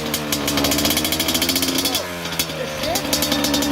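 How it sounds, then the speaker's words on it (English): A dirt bike engine runs in neutral after a kickstart, putting out a loud, rapid, steady chatter with slight revving, close to the microphone, while a person talks over it. "if you're in a gear, then you pull the clutch in and then you kickstart it"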